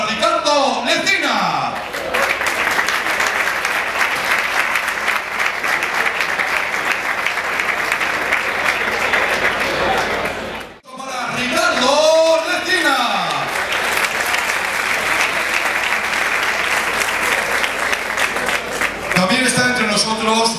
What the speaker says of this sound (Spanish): Damas y caballeros, fuerte aplauso para Ricardo Lecina.